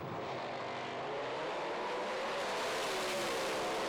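Drag race cars, a nitrous Dodge Viper and a Camaro, launching at a European finals event: a dense, loud engine roar that swells and holds, heard from a distance.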